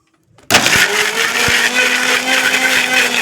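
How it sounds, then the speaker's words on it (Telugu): A kitchen mixer grinder whirs into life after a brief pause, running loud and steady as it blends a homemade hair pack, the motor's whine holding with a low continuous hum and faint rattling throughout. "ఇంకా నేను మిక్సీ పడుతున్నానండి."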